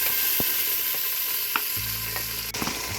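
Tomato paste made from two tomatoes goes into browned onions frying in a pan, giving a loud, steady crackling sizzle throughout, with a few light scraping ticks from stirring.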